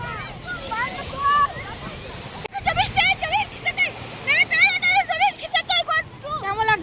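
Sea waves breaking on the beach at Digha, a continuous rushing surf under wind noise, heard close beneath excited voices and shouting.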